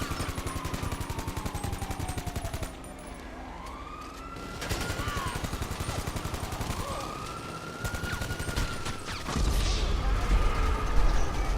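Gunfire in GTA Online rattles in rapid repeated bursts, mixed with wailing police sirens that sweep up and down. A voice is heard faintly.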